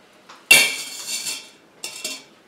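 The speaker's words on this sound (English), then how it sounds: "I'm going to add a steamer basket" A metal steamer basket is set into a pot that still holds liquid from a cooked roast. A soft tap is followed by a loud metallic clatter and a ringing scrape, then two lighter clinks as it settles. No one speaks.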